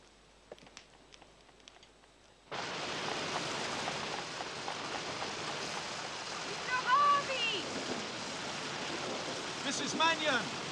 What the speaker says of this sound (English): Don't stand there getting wet! Come in out of the rain!